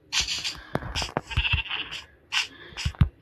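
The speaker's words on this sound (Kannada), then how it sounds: "ಈ ಕುರಿ ಹೆಂಗೈತೆ ನೋಡ್ರಿ." A sheep bleats several times up close, with short, wavering, nasal calls in quick succession over a few seconds.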